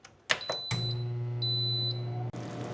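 An air fryer beeps as it is set for chicken, a few quick button chirps followed by a steady high electronic tone and a loud low hum of the running fan that cuts off briefly near the end.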